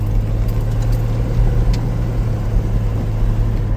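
A 1989 Jeep Comanche engine with worn motor mounts, heard from inside the truck as a steady, loud mid-range drone that holds evenly throughout under the engine's constant low hum, no talking.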